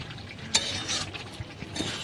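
Chicken pieces are turned with a spoon in a pan, soft scraping stirs and one sharp clink against the metal, with a faint sizzle underneath; quiet and close.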